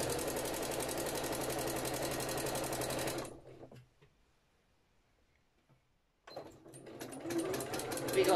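A sewing machine stitches a quilt-as-you-go needle case in fast, steady rhythmic runs, stopping for a few seconds of near silence before starting again close and loud.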